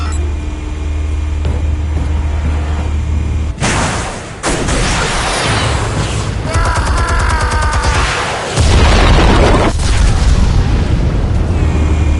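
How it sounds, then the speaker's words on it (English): A loud explosion in a Batman video game bursts out sharply, followed by rumbling debris and a second heavy blast over a constant low game-audio drone. "Explosives armed. Fire when ready."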